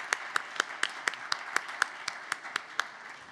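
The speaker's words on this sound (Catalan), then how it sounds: "Em permeteu que demani un nou aplaudiment per a les persones que ens acompanyen a la taula." Evenly spaced, crisp claps ring out in a steady rhythm at a political science conference, as the audience applauds the panel speakers at the table.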